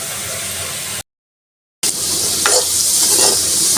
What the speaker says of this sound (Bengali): এভাবেই ভাজছি একদম খালি খালি গরম তেলের মধ্যে।